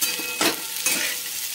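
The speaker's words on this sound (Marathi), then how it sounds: "आता हे असंच परतवत राहायचं, कारण गॅसची फ्लेम आपण हाय ठेवलेली आहे" Paneer with capsicum and onion sautés on a high gas flame for shahi paneer, giving a steady sizzle broken by two or three quick scraping stirs.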